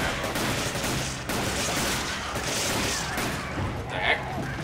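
Gunfire in the Resident Evil: Desperate Escape video game, a dense, loud, continuous crackle of shots and booms filling the whole stretch with no clear gaps.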